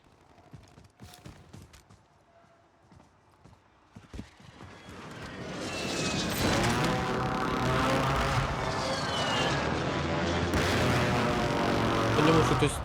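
Sparse distant shots and clatter give way to a dense, continuous roar of heavy gunfire and explosions from Warzone 3, loud and sustained to the end.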